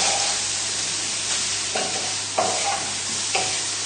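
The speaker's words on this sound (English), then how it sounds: "we're just moving everything around the pan just so that make sure that nothing's sticking on the bottom" Bacon, mushrooms and pasta are stirred in a hot pan over high heat, a steady loud sizzle broken by a few scraping utensil strokes against the pan.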